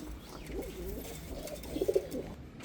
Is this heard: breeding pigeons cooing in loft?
yes